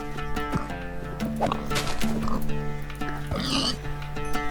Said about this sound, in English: There are pigs as well.